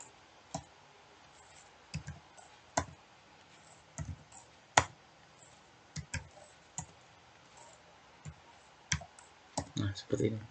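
Keys are pressed on a computer keyboard while entering data into an Excel spreadsheet, producing faint, sparse individual clicks that end in a quick cluster of keystrokes against a quiet background.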